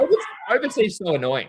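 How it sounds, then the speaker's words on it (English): A pet dog barks and yips excitedly indoors, with short sharp calls and a whining, harmonic bark near the end, while someone talks over it. "That's my dog going mental."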